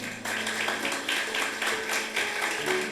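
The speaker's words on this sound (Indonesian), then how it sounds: "tepuk tangan dong buat Pak Slamet." Applause for a teacher at a junior and senior high school fellowship gathering, a steady crowd clapping that continues evenly throughout with a slight murmur of voices underneath.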